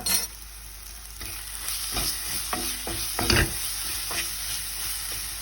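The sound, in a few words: stirring tomato and onion mixture in a pan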